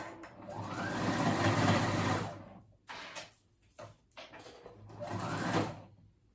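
A sewing machine stitches ruffles onto knit fabric in two fast runs, each a whirring burst that ramps up and slows, separated by short pauses and small clicks of handling.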